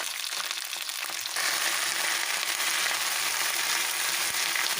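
Whole garlic cloves and curry leaves fry in hot oil for thokku, a loud continuous hiss that suddenly intensifies into fierce sputtering and crackling after a moment, staying close and steady with no voices.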